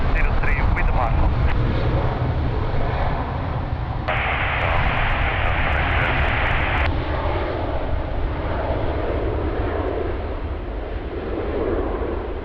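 An airplane takes off at a windy Lisbon Airport with a low, rumbling engine roar under gusting wind, while radio chatter from air traffic control runs on top throughout.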